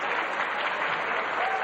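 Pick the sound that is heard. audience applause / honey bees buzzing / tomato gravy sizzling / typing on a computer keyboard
audience applause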